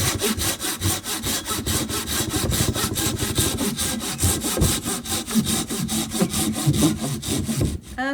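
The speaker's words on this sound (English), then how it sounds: "As we start to get almost through the log, you'll hear the sound of the saw start to make a different noise." A hand saw cuts through a log resting on a sawhorse, close and loud, its rasping strokes repeating in a steady back-and-forth rhythm with no talk.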